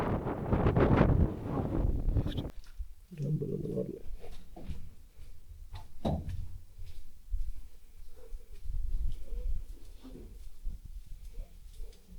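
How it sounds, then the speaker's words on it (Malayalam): Gusty wind buffets the microphone on a hilltop at Mathanga Hill, Hampi, rumbling low and loud at the start, then easing into steady blustery noise with a few brief murmurs. "പോയിന്റ് ഭയങ്കര കാറ്റാട്ടോ"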